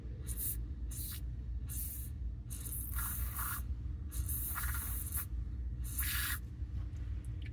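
An aerosol can sprays in a series of short hissing bursts into a brake wheel cylinder, about seven close, separate squirts with pauses between them and no talking.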